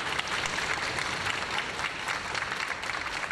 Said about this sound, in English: Keep that applause going for our concertmaster, Joel Tan.